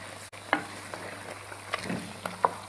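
Ground turmeric, coriander, red chilli and salt fry with mutton for a Chinioti kunna. A steady sizzle runs throughout, broken by a few sharp spoon scrapes and clinks against the pot.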